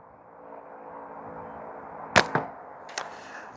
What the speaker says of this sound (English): we should probably put a whack on that Omega Slings can